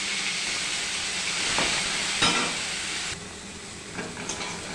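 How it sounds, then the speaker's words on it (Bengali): Prawns frying in oil in a pan for a pumpkin curry give a steady, close hiss that runs the whole time, with a few brief louder bursts of spitting along the way. "মাছটাকে ভেজে নেব।"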